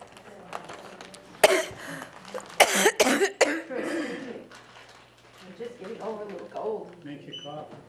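A woman coughs a few times in quick bursts during a kitchen dessert-making demonstration, the sharp coughs close and loud, followed by softer talking and chuckling.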